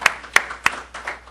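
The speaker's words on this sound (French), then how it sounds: "si nous pouvons encore applaudir" Scattered clapping from an audience at a Gabonese civic platform launch in Washington, a few sharp claps standing out near the start before trailing into lighter, thinning applause.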